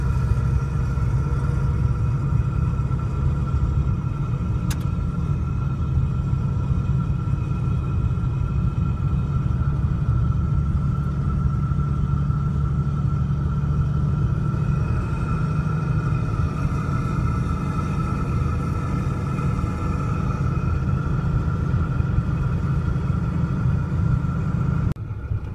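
Steady, loud engine drone with heavy low rumble and a constant whining tone from a Valair twin-disc clutch and G56 gearbox in a Cummins truck in fourth gear, sustained without letup for the whole stretch, no talk.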